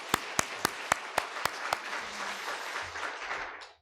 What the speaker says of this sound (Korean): 우리 한번 박수 쳐주십시다.